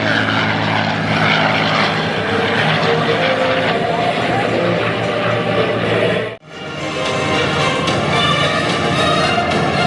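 P-51 Mustang "Quicksilver" flying at an airshow, its propeller engine droning loudly and steadily with a brief dip partway through, while an announcer talks over the roar.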